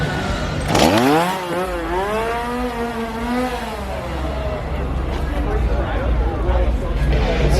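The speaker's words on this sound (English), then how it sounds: "Some more chainsaws over here in Springfield." Chainsaw engines rev and whine in rising and falling bursts at a Halloween Horror Nights scare zone in the Springfield area, loud and close over a steady background of crowd babble and voices.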